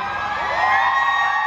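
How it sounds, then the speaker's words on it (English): A live concert crowd gives a mild, brief cheer, mixing whoops and high yells into a dense wash of voices that swells slightly and holds at a fairly loud level. "It's a mild cheer for surrendering control."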